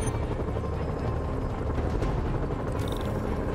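Steady, loud, throbbing rotor drone of a helicopter in Marvel's Spider-Man, a dense low rumble that continues unbroken throughout.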